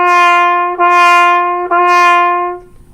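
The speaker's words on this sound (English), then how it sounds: "So our notes sound like this when we're playing the accents." Three sustained notes on one pitch are played on a wind or brass instrument with accents, each swelling in the middle and then tapering, separated by brief dips. The sound is close and clear, and the last note fades out.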